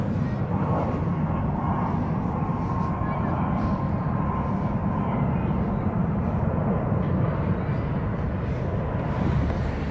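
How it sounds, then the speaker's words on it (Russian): An airplane passes overhead near an airfield in Batumi, Georgia, while landing or taking off: a broad, continuous engine roar with a faint steady whine, heavy wind buffeting the microphone outdoors. "О, самолет."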